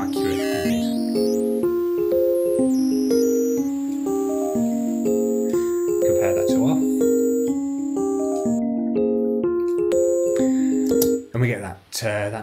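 A synth melody runs through a digital bitcrusher distortion with harsh aliasing, making bright, buzzy, stepped tones with a retro computer-game character, loud and steady before a few choppy bursts at the end.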